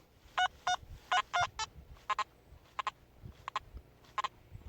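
Short electronic beeps in uneven bursts, some paired, from a Nokta Makro Simplex metal detector in a field in the UK, over faint low rumble and background noise; no talking.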